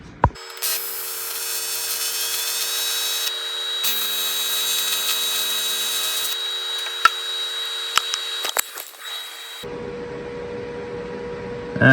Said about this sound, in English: Let's weld those real quick.